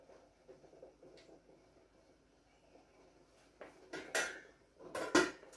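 Metal canning pots clank and scrape as they are handled and set down during home canning of apples and cherries, with two louder clatters near the end after quieter rattling.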